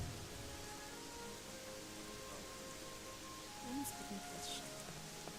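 Rain falls in the video game Gothic 3, a soft, steady, faint hiss of drops with a few small chimes and game sounds briefly rising over it.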